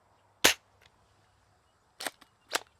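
A 3D-printed Nerf hand cannon blaster fires foam darts in three sharp, close snapping shots separated by pauses, with faint softer clicks between them.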